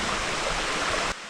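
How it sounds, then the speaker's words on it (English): Creek water pouring from a mine outflow, a dense, steady rushing wash close by that cuts off abruptly near the end. "There's the outflow from the mine. Still going."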